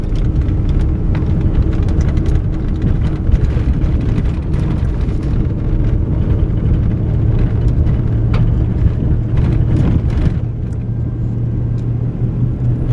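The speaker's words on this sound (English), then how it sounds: "We're still driving up the main road of Rancho Escondido" A vehicle drives up the main dirt road of a ranch in rural Mexico, its steady engine rumble and tire noise loud and continuous throughout with no talking.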